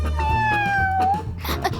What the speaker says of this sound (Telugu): తాగు పిల్లి, తాగు.